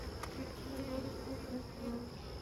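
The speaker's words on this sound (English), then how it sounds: "I know you're a particularly buzzy hive" Honeybees buzz busily around an opened hive with an expanded brood nest, a close, continuous droning hum with individual bees passing by, no talk.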